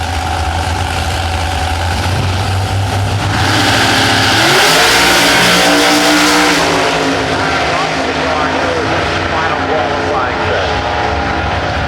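A Ford Mustang drag car at an IHRA national event idles loudly, then revs hard and roars off the line, the engine pitch climbing before fading; an announcer talks over the noise.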